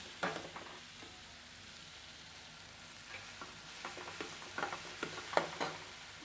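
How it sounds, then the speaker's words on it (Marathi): Pumpkin and masala being stirred together in a hot pan, a steady sizzle of frying with irregular scraping and clicking strokes of the spoon that grow busier toward the end. "आता सगळं एकजीव करू मसाला आणि भोपळ्याचा"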